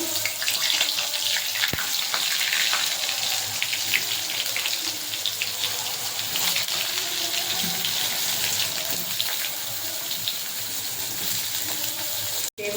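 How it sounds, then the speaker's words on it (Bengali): Eggplant pieces fry in oil in a wok, a loud, constant dense sizzle that holds steady throughout, ending with a sharp brief knock. "কড়াইতে আমি আরেকটু তেল দিয়েছি বেগুনগুলো ভেজে নেবো"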